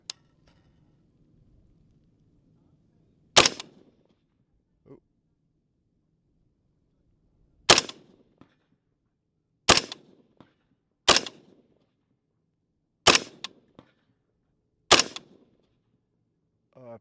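An M16A4 rifle fires M855 ball rounds at a target 200 yards away: seven sharp, loud single shots spaced a few seconds apart, each followed by a short echo, with silence between and a faint voice early on.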